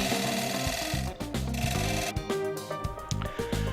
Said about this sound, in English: to gently trim away the excess wood from the outside of the beaded rim.